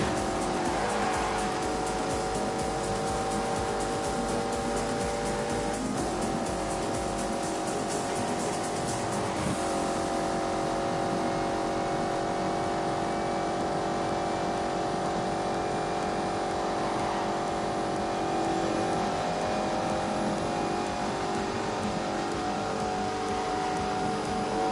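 A race car engine in The Grand Tour video game on PS4 revs hard and steadily throughout, with sustained engine tones shifting in pitch and occasional tire squeal, loud and continuous with no talking.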